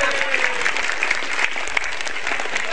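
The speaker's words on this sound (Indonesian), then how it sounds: "Tepuk tangan untuk Metro TV" An audience claps steadily at a stand-up comedy show, the dense applause sustained and evenly loud throughout with scattered louder claps.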